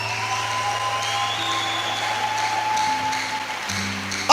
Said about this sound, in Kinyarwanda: Yimpera amashyi.